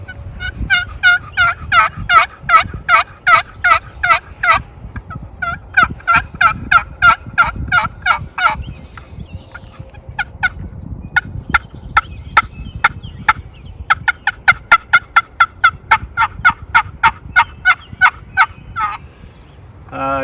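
A wooden southern wild turkey box call scraped in repeated bursts of raspy yelps, mimicking a wild turkey's gobbling calls, loud and close with short pauses between series.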